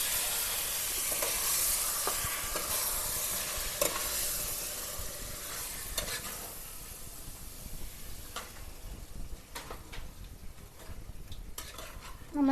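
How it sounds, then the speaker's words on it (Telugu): Chicken and onion fry in a pressure cooker with a continuous loud hiss and sizzle while a spoon stirs, clicking and scraping against the metal now and then, close up and with no voices. "ఇప్పుడు బాగా కలుపుకోవాలి, మిక్స్ చేసుకోవాలి. Chicken, onion,"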